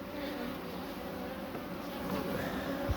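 Honeybees buzz around an opened hive at a coastal apiary on a chilly day, a faint, steady, dense hum carrying on without a break.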